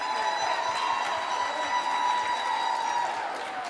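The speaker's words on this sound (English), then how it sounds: "So could we give the 162 board a round of applause" An audience at a South Suburban choir gala gives the 162 board a round of applause, a steady even wash of clapping that stays faint and distant throughout.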